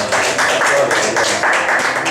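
Church congregation applauding in praise during a Spanish-language service, a steady, dense wash of many hands clapping together at close-to-mid distance, loud and sustained with slight rhythmic pulsing and a faint voice underneath.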